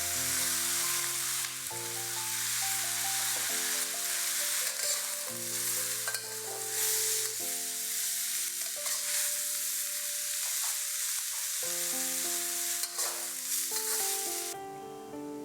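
Pork belly and cabbage frying in a pan with rice, a constant loud sizzle broken by repeated scraping stirs, close up with music playing underneath.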